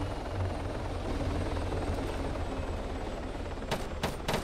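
A helicopter's rotor thumps and drones steadily up close in the video game Arma 3, with a few sharp gunshot cracks popping near the end.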